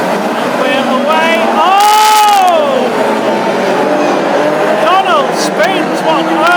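Classic hot rod race cars pull away from the grid at a national championship final at Hednesford oval, a loud, steady engine roar with revs sweeping up and down, fading slightly then returning, while a commentator speaks over it.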